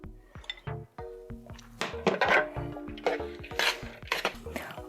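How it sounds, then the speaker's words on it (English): Utensils toss dressing through a salad in a bowl, producing close, irregular clinks, scrapes and soft rustling stirs in quick bursts, fairly quiet and with no talk. "Mix in the dressing little by little."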